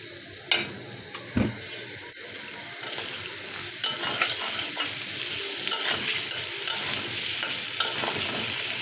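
Ground turmeric and cumin sizzle in hot oil in a pan while a utensil stirs and scrapes, with a continuous frying hiss broken by sharp clinks of metal against the pan, close and moderately loud.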